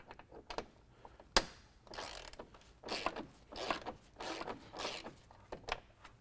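A ratchet loosens an 8mm bolt on the front bumper of a 2015 Ford F-150, making repeated close, rasping clicks in several short bursts with brief pauses between them.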